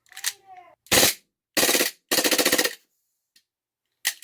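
An airsoft gun fires in loud, close bursts on full auto, with a short burst, a longer rapid string and a final single shot separated by silence; a voice is heard briefly at the start.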